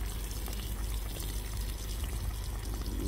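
Water pours steadily from a tap marked as non-drinking water, a continuous close splashing and trickling stream that runs unbroken throughout with no talk over it.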